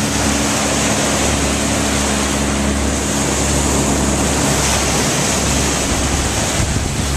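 Ocean waves and surf wash steadily at a beach where a child rides a boogie board in a pulling tide, a loud continuous roar with gusty wind buffeting the microphone and no break in the noise.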